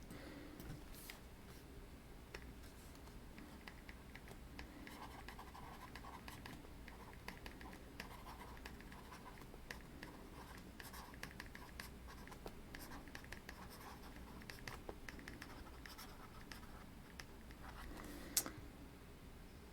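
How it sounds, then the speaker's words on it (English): Pen or chalk scratches and taps faintly while writing during an electrical engineering lecture, soft irregular strokes over low room hiss, with a sharper click near the end. "I'll just write that down"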